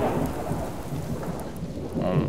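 Steady, close rain pours down in the survival game Subsistence, with a deep rumble of thunder rolling beneath it the whole time and no voices.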